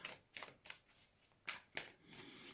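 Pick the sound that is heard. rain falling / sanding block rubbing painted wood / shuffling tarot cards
shuffling tarot cards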